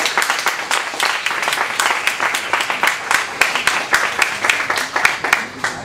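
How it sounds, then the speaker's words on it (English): Audience at a fundraising evening applauding steadily, a dense, close wash of many hands clapping throughout with no talk over it. "please also join me in a round of applause to thank all the contributors"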